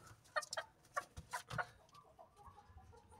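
Several short, bright clucks from an Aseel hen in quick succession near the start, then quieter low rustling and handling noise.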